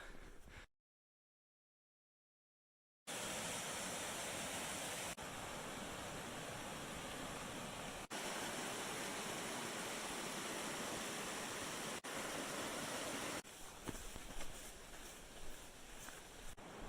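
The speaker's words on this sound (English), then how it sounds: "Hiking along a river" Steady broadband rushing of a river beside a hiking trail on the Colorado Trail near Durango, continuous and fairly close after a brief silent gap, with no talking.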